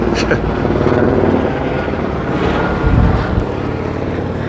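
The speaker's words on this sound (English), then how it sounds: "There's a patrol helicopter there, just keeping an eye on things," Continuous patrol helicopter rotor noise throbbing steadily at a moderate distance over the coast, with a low rumbling surge near the end.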